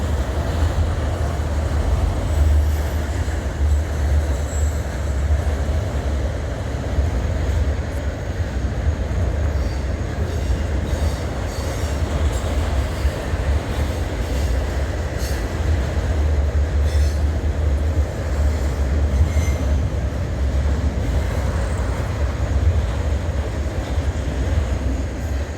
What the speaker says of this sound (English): End of the train. Looks like it's a short one to me